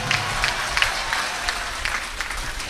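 An audience at a comedic motivational speech applauds steadily, a dense patter of many hands with occasional sharper claps standing out, continuing throughout at moderate loudness.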